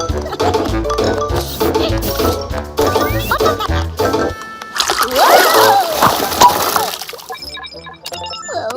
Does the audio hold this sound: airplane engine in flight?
no